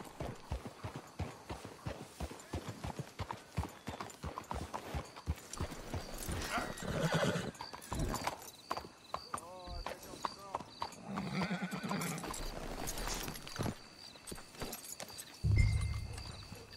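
Rhythmic clip-clop of horse hooves trotting on hard ground in Red Dead Redemption II, followed by a horse whinnying, with people talking over parts of it.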